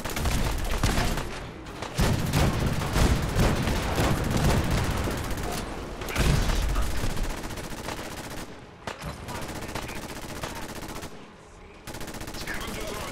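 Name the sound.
cannon fire in the video game Fallout 4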